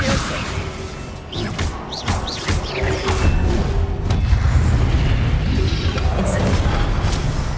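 Confringo spell blasts in the Hogwarts Legacy video game, booming impacts and whooshing bursts that build into a dense, loud rumbling roar of combat effects.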